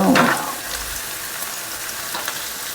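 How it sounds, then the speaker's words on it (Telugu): Onions and green chilies frying in a pan for restaurant-style chilli chicken, a loud close sizzle that flares at the start as they hit the oil, then settles into a steady crackle. "ఆనియన్స్ మిర్చి వేయించుకోండి దోరగా వేగాక"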